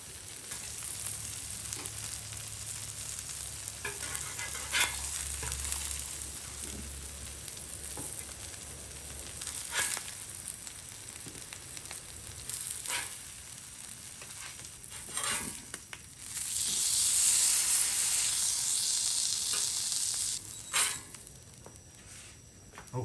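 Ostrich smash burger patties frying on a Blackstone griddle, a steady close sizzle with crackling pops, occasional scraping taps of a spatula and a louder hiss swelling near the end, no voices.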